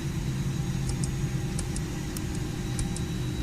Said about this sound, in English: I hope you guys can hear the incredible sound of this airplane